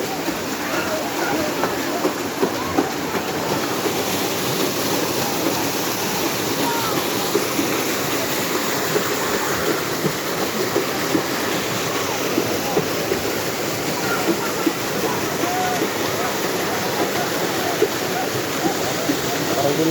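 Water from a small hydroelectric supply rushes in a loud, steady roar that fills the whole stretch, with voices faintly under the constant flow.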